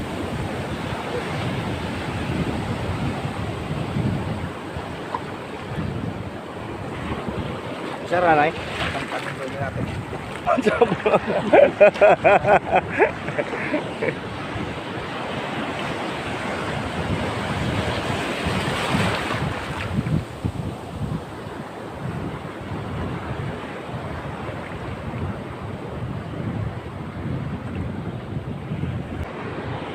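Big sea waves wash and roar around a boat out lobster fishing, mixed with heavy wind buffeting the microphone and a rattling burst midway, while someone talks over the steady surf.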